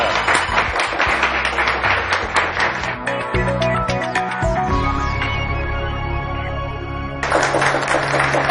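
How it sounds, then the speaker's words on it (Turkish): Studio audience applause on a Turkish word game show: dense, close clapping in bursts that swell and fade, with a sustained musical jingle under it before the clapping returns loudly at the end. "Alkışlar"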